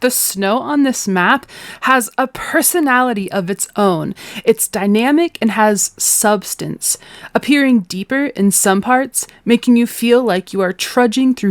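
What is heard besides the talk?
None of the usual background noises is heard.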